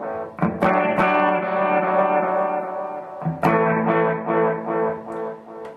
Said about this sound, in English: the tape delay recreates the sounds that you get from a classic tape delay or tape echo machine